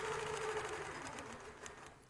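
A longarm quilting machine runs steadily, stitching around a quilt block with a continuous close mechanical whir and a fast needle rhythm at even loudness, and no voices.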